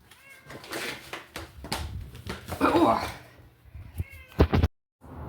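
A year-long stray tomcat, newly brought indoors, gives several loud, close, drawn-out meows in an uneven series, with a person talking between and over the calls.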